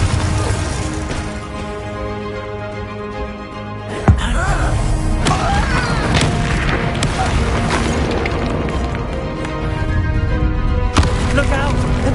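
A Bombarda explosion spell goes off in Hogwarts Legacy, a sudden loud boom with a thud that gives way to a dense, sustained rumble of battle noise and music layered under the action.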